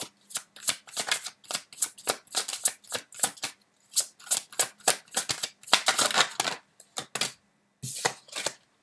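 Tarot cards being shuffled and drawn from a deck, a close series of quick papery riffles and slaps in irregular bursts with short pauses between, no talking.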